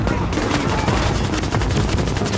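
Video game gunfire in Tom Clancy's The Division, a dense, loud burst of rapid automatic shots and crackling impacts filling the whole moment without pause.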